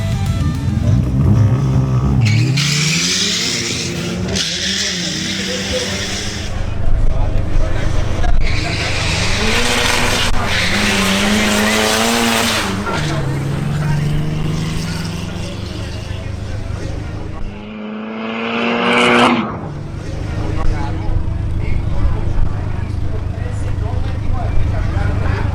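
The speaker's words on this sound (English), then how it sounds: "Next, we have a matchup between Jose Funin in his Audi S3 and Raul Gonzalez in his Renault 18 GTX Turbo." An Audi S3 and a Renault 18 GTX Turbo at a drag race, loud engines revving and rising through gears with whining turbo tones, a car sweeping past, under continuous commentary.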